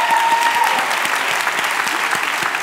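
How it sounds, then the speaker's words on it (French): Audience at the Swiss final of a thesis-in-180-seconds competition claps steadily, a dense continuous applause filling the whole short stretch. "Merci de l'applaudir."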